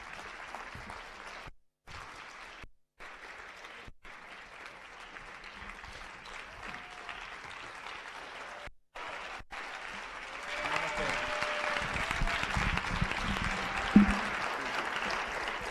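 Audience applause welcomes a film director onto the stage at a Q&A screening, steady clapping with some voices and stage bustle, swelling louder toward the end.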